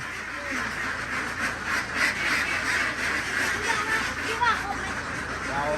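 Muscovy and white egg-laying ducks quack steadily at close range in a farmyard, overlapping calls forming a continuous chorus with people talking throughout.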